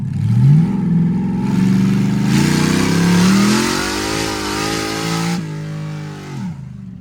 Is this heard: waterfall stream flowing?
no